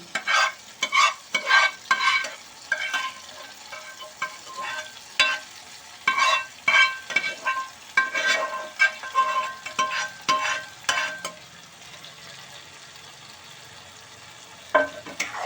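Okra pieces go into a pan of masala and are stirred, making repeated scraping and rustling bursts with a light sizzle underneath that thin out toward the end, close by and without speech.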